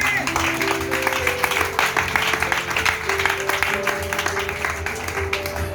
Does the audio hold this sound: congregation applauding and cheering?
yes